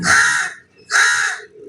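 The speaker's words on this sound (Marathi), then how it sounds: "कावळा ओरडतोय, त्याला खायला घालायला ओरडतोय तो बघा." A crow calls out for food, giving two loud, harsh caws separated by a short pause, close by and clear, with no talking.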